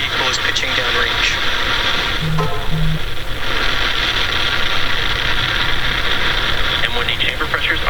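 Falcon 9 rocket engines roaring at liftoff, a loud, steady broadband rumble that holds throughout, with radio-style commentary voices over it.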